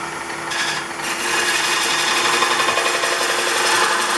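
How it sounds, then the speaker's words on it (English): A spindle gouge takes a peeling cut on a wooden mug spinning on a lathe, giving a steady, loud scraping and shaving hiss that runs continuously without pause. "You can do a peeling cut with a spindle gouge using the corner."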